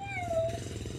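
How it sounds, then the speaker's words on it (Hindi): A cat in a Pakistani village meows once, a drawn-out, falling call standing out clearly over a steady low hum and faint outdoor wind. "तो अभी हम बिल्ली आ गई है।"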